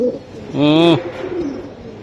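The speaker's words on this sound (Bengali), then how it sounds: "মাদিটা বেজি কবুতর, নটটা সিলভার কবুতর" A Beji pigeon and a silver pigeon cooing: one clear, loud rolling coo with a wavering pitch lasting about half a second, set against faint background murmur.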